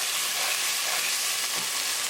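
Tomato puree cooking with tadka in a pan for a chickpea chicken curry, a steady, loud, close sizzle and hiss with no pauses.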